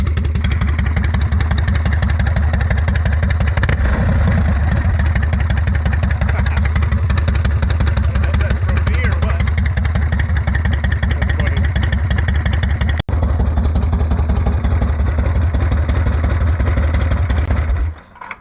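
A 1981 Harley-Davidson Shovelhead motorcycle engine on a ride, close and loud, with a rapid throbbing exhaust pulse, steady clatter and wind rush; the engine note drops away near the end as power is cut.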